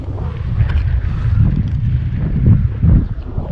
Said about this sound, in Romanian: Bate puțin vântul